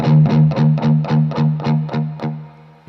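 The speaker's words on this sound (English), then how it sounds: "This is the vintage low end of a Marshall amp." An electric guitar, a Strat, played through a Marshall amp with a drive pedal, chugs out about nine evenly spaced palm-muted hits over a sustained low note, loud and close, then rings out briefly alone.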